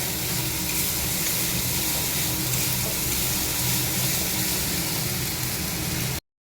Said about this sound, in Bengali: মশলাটা ভেজে নেই ভালো করে।